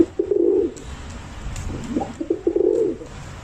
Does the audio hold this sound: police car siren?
no